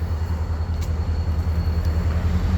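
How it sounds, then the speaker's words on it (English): A CN freight train begins to move along the Bedford Highway in Nova Scotia, giving a steady, heavy low rumble with a faint squeal now and then, fairly close by. "Oh, there goes the train."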